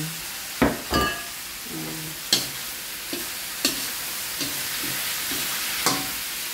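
Shrimp frying in a pan with cooked tomatoes for pinakbet, a steady close sizzle broken by sharp spatula scrapes and clacks as the pan is stirred, with no talking.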